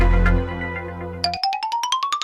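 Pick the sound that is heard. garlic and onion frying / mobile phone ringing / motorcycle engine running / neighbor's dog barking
mobile phone ringing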